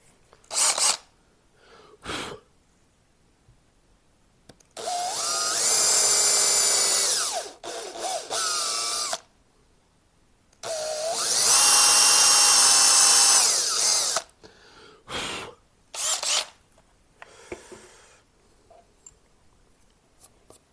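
A power drill bores into a wooden guitar body in two sustained high-pitched runs of a few seconds each, with short trigger bursts and quiet pauses between them.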